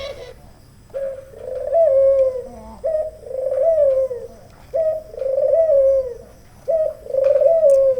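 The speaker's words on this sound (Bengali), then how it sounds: "ঘুঘু পাখির ডাক ভালোই লাগে" A dove coos close by in repeated low, throaty phrases, about five in a row with short pauses between, and faint chirps in the background.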